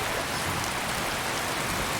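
Steady rain falls in Skyrim Special Edition, a dense, even hiss of drops on surfaces with no breaks. It sounds close and fairly loud and plays alone, with no talking.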